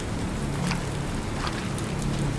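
Steady rain pours down on a hillside near a riverbank, a constant close hiss of drops with no voices.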